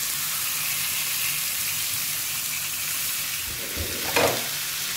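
Mullet sizzles in an already hot pan with no added oil, a steady close frying hiss, with a short splashy burst of louder crackle near the end.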